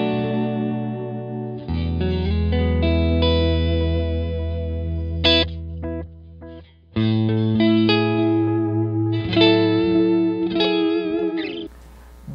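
A guitar runs through a Line 6 M5 effects pedal, with sustained chords and single notes shimmering under chorus modulation, reverb and delay, loud and close, with a brief gap midway and no talk.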